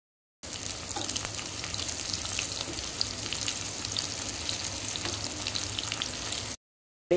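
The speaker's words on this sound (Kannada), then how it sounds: "ಇವಾಗ ಬೆಳ್ಳುಳ್ಳಿ ಫ್ರೈ ಆಗ್ತಾ ಇದೆ." Crushed garlic fries in hot oil with a close, continuous crackling sizzle that holds steady for several seconds before cutting off abruptly.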